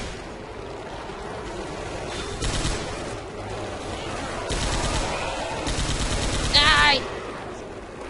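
Rapid bursts from a mounted machine gun cannon in Left 4 Dead 2, loud rattling volleys in several stretches, with a shouted voice and a brief whistling squeal near the end over background game noise.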